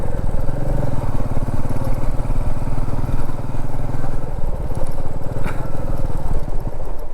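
A motorcycle engine runs steadily close by near a rural railway station in the North Garo Hills of Meghalaya, a loud continuous putter with slight clatter and no voices.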